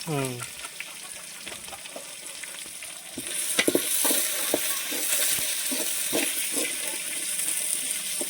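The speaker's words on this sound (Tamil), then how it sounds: "சின்ன வெங்காயம். அதை எடுத்து போட்டு இதில் வதக்கணும்" Small onions sizzle and fry in a hot pan with occasional stirring clinks for a spicy rooster curry, a steady crackle that brightens partway through.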